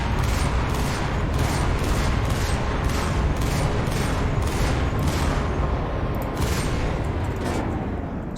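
A tank's main gun in a video game fires in a loud, dense barrage, rapid repeated blasts roughly twice a second over a constant roaring wash of noise.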